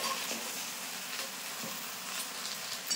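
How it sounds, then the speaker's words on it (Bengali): Date palm jaggery melts into a plum pickle while being slowly stirred in a pan, a soft continuous sizzle and hiss with faint occasional scrapes, quiet and close, without speech. "এখন আস্তে আস্তে নাড়বো, আর গুড়টা কিন্তু গলে যাবে"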